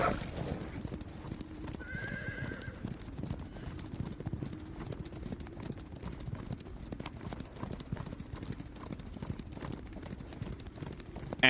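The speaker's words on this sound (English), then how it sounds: "Terrified, utterly terrified horses, screaming, clearly not happy about something." Many terrified horses gallop and neigh in a continuous dense clatter of hooves, with a shrill whinny rising above the thunder near the start, loud and steady throughout as a sound effect.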